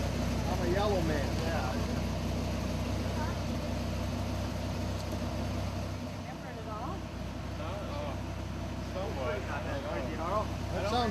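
Drag racing car engine idling outdoors at low volume, a steady, rumbling drone that dips briefly midway before resuming, with people talking nearby over it.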